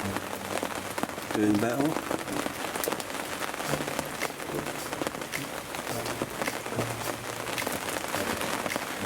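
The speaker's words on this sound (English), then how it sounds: "Let's get out in the rain." Rain falls steadily outdoors at a carp fishing spot, a constant patter of drops on surfaces, with someone speaking briefly over it.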